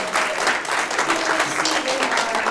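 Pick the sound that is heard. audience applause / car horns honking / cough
audience applause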